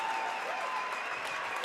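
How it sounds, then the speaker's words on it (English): Loud, sustained crowd applause in a gym as fans give a standing ovation at a Kearney vs Lincoln Southwest boys high school basketball game, a dense steady roar of clapping. "And a standing ovation from the crowd for Jacob Weber and this Bearcat team."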